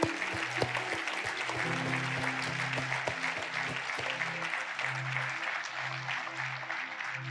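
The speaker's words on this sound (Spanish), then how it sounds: "Dale un aplauso a Dios bendito" A church congregation applauds in a steady wash of clapping, with low sustained keyboard notes playing underneath.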